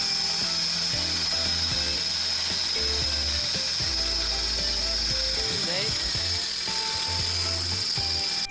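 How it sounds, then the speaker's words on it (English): A power drill with a dull bit bores a hole during a Ford F-150 FX4 hood and grille install, the motor whirring and stalling in uneven bursts with ratcheting, grinding tones throughout. "I think this drill bit's shot, Jason."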